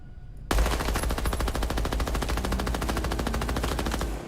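A rapid stream of automatic gunfire in a Midnight Society video game, loud and close, holding a steady, fast rhythm for nearly four seconds without speech.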